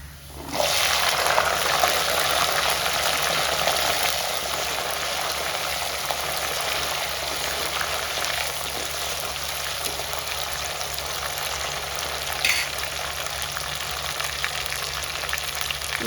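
Small onions fry in oil for kara kuzhambu with a loud, dense, continuous sizzle that starts abruptly and holds steady throughout, close and without talk.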